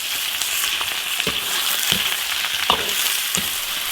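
Softshell turtle meat stir-fries in lard in a hot iron wok, a loud steady sizzle with repeated scraping stirs of the spatula, close up and without talk.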